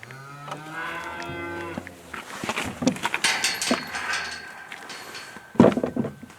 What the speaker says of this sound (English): So that's the cow that's supposed to be calving.